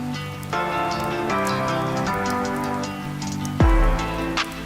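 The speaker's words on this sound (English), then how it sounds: "A violent storm rips across the plains, the sky darkened by thunder as torrential rain floods the savanna." Torrential rain pours during a violent storm on the African savanna, a dense, loud hiss over a steady tonal bed. A deep, heavy rumble rises near the end.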